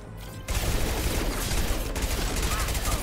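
Sustained rapid gunfire from a sci-fi shooter, Mass Effect 2, starting abruptly after a brief quiet moment and continuing as a dense, loud barrage of overlapping shots.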